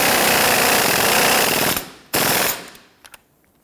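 Rapid hammering rattle of a power tool driving down the rear strut nut on a 1992-1996 Toyota Camry, loud and continuous, cutting off, then a second short burst followed by a couple of faint clicks.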